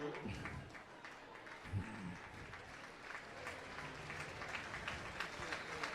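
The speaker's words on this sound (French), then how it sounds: "Vous pouvez effectivement les applaudir chaleureusement." Spectators clap for steeplechase runners at a 3000 m athletics meeting in Montbéliard, a steady broad wash of applause from the stands, with a brief louder burst partway through.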